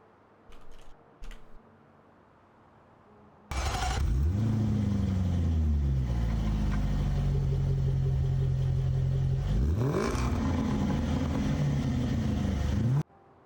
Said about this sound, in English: One of my favorite cars in the world is the Jaguar F-Pace SVR.